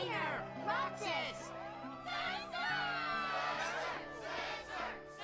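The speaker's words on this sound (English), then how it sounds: "Yes, the crowd is fired up" Arena crowd in Kingdom Hearts II cheering and shouting at a struggle tournament match, a dense, continuous roar of voices with rising whoops, loud and sustained throughout.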